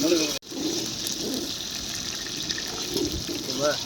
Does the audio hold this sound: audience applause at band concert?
no